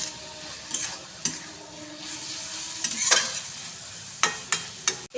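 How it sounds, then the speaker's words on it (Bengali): Taro greens and shrimp stirred in a pan with sugar and salt, a low sizzle broken by repeated sharp scrapes and knocks of a spoon against the pan, close and uneven. "এটা ভালো করে নেড়ে চেড়ে একটু নুনটা ভেতরে ঢুকতে দেব"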